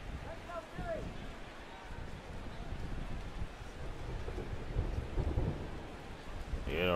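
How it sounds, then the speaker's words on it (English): A thunderstorm in the baseball video game MLB 15 The Show rumbles continuously with a dense low roar and rain-like hiss, steady and fairly loud throughout with no clear speech over it. "Yeah, rumbling thunderstorms."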